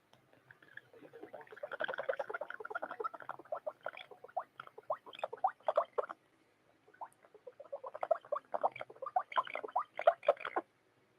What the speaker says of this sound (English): That's the noise he makes for water.